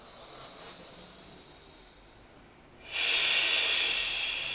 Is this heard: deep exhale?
yes